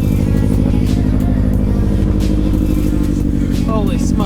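Car engine warming up in a snowstorm, a loud steady rumble with revving, continuous and close throughout, with people talking over it.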